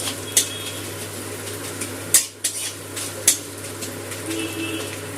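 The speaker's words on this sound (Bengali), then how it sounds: "হিংটা একটু তেলে ভেজে নেব।" Asafoetida frying briefly in oil in a pan over lowered gas flame for Biuli dal, with a few sharp spoon-against-pan clinks over a faint steady background hiss.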